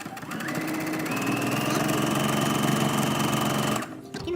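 A sewing machine stitches fabric scraps for a patchwork rug, its fast needle chatter running in one continuous close burst for several seconds before stopping abruptly.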